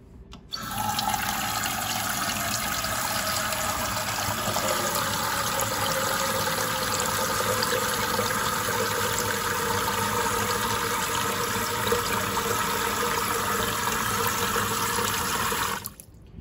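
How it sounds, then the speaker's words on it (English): Cold tap water runs steadily into a pot of eggs being readied for hard boiling, a constant close splashing stream that starts after a second and stops cleanly near the end, with no talk. "we're going to cover our eggs with cold water, just enough to cover the eggs"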